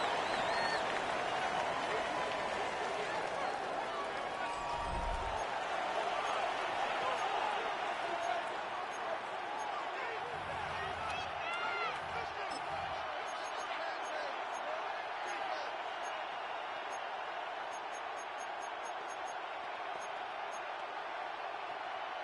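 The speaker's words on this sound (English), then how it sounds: "This crowd into it now as we get to 3rd down." A football stadium crowd roars steadily during a game, a broad sustained wash of cheering noise filling the space, with a few low thumps and a commentator talking over it.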